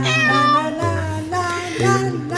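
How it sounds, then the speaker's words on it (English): A cartoonish cat meow sound effect played in a web-based virtual world demo, a loud, drawn-out tonal mewing with several rising and falling pitch swells, heard alone. "the collide event causes the cat to meow"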